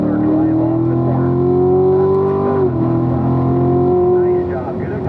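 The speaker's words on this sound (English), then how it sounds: "Now throttle steer right here earlier so we can build our drive off the corner." A car engine revs loudly and steadily as it accelerates out of a corner on a race track, with a brief dip in pitch mid-way before climbing again, heard from inside the car with a voice faintly underneath.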